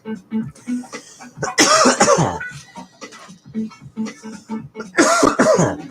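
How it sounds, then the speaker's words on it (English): Several short coughs and throat-clearing bursts in bunches, close and moderately loud, with talk mixed in between them. "We'll call them bashful coughs."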